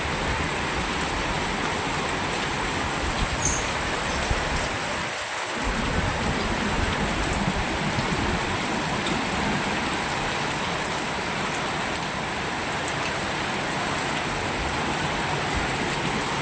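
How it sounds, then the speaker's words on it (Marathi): Heavy monsoon rain pours down at More Vasti in Chikhali, Pune, a loud, unbroken roar of drops beating on surfaces that holds steady for the whole stretch with no voices. "आता एवढा मोठा पाऊस पडलेला आहे पुण्यामध्ये"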